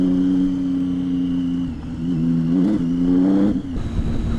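A Triumph Tiger 800 motorcycle revs hard on a narrow off-road lane, its engine note rising and falling in a steady loud drone as the rear wheel spins, close and continuous throughout.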